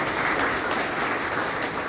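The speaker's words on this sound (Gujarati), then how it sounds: "એ બધાની જબરદસ્ત તાળીથી બતાવો" Enthusiastic audience applause at a village satsang religious gathering for Shravan Sud Panchami, a dense, steady wash of many hands clapping close by for about two seconds with no talking.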